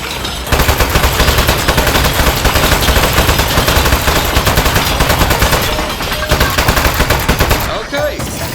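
Rapid, sustained gunfire from the video game Aperture Desk Job as a speed-up switch is shot, a loud continuous rattle with a steady pulse that briefly thins near the end.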